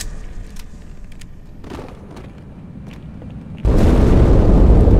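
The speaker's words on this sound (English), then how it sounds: "That explosion came from inside the Athens" A Halo 2 Anniversary explosion goes off inside the Athens ship. Muffled rumbles and thuds build into a sudden loud, sustained blast that cuts in sharply and holds at full strength to the end.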